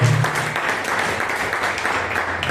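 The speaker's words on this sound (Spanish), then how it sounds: "Denle un aplauso al Señor" A church congregation claps together in a steady, moderately loud burst of applause that carries on evenly, with no voices rising above it.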